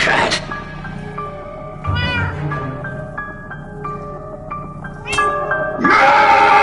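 A cat in Minecraft Story Mode gives several loud, close meows spread across the span, over a soft, steady musical tone with voices in between.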